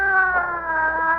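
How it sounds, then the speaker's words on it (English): An ambulance siren wails in a long, steady, drawn-out tone, moderately loud and slightly distant, with no talking over it. "That's the ambulance, I guess."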